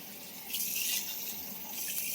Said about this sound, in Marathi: स्वच्छ पाण्याने धुवून घेते.